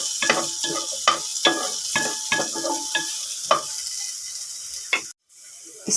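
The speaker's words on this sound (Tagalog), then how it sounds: "Igisa og una ang luya ug sibuyas." Ginger and onion sauté in oil in a pan, with a soft sizzle under repeated scraping strokes of a stirring utensil, close and steady until a sudden cut near the end.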